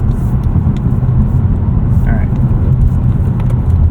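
Mazda3 2.5 S manual FWD engine pulling after a shift into third gear on a rough, patched road, a steady low drone with road rumble throughout, continuous and fairly loud.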